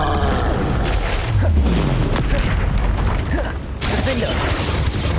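A Confringo fire spell exploding in Hogwarts Legacy, a loud continuous blast with rumbling booms and crackling debris and a short dip near the end.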